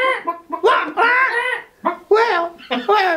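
A storyteller imitates clucking chickens with his voice, giving several close, loud bursts of bird-like clucks and squawks in an uneven rhythm with short pauses between them.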